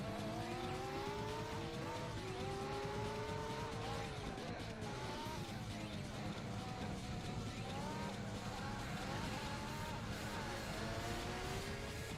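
Mercedes CLK race car in Gran Turismo 4 howling at steady high revs, engine pitch sweeping up and down through gear changes and corners, loud and continuous throughout with brief tyre scrubbing.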